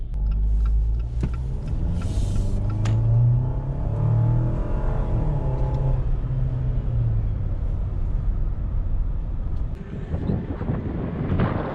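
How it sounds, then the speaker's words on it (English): A 2024 Jeep Wrangler Sahara accelerating with the turbo kicking in, a loud steady engine rumble with rising tone heard from inside the cabin, with wind noise and no talk. "Turbo kicking in,"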